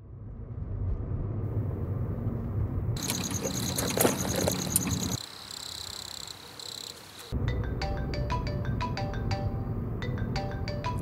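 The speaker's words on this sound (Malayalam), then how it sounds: "ഏയ് ആരപ്പോൾ ഫോൺ വിളിക്കുന്നു?" A mobile phone rings with a bright, repeating electronic melody that starts partway in, pauses briefly and returns as a rapid pulsing tone, over a faint insect-like night background.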